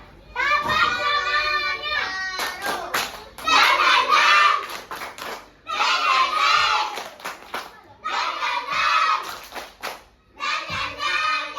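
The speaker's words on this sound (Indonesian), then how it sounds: "Coba kita tes dulu tepuk semangatnya ya." Schoolchildren in a classroom perform a rhythmic spirit clap, loud group chanting in repeated bursts punctuated by quick claps, with short pauses between each round.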